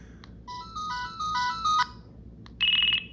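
A Virgin Mobile flip phone (K7 Rave, K9 or K10 Royale) plays a short electronic ringtone melody of stepped beeping tones, followed after a pause by a brief warbling trill, loud and close with no voices.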